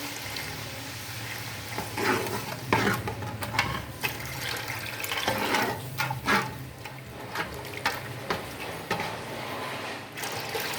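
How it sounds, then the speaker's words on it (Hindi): Water poured into a cooking pot for kofta pulao, a steady splashing and trickling stream that runs unbroken and close, with no speech. "हाफ़ लीटर मैं इसमें पानी का ऐड करूँगी।"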